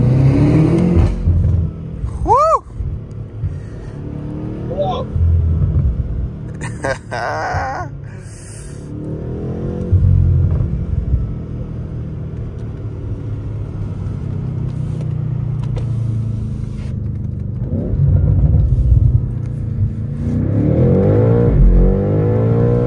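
A 2023 BMW M8 Competition accelerates on a road in Toronto, its engine loud and close as it rumbles and revs repeatedly, rising and falling, with brief bits of speech.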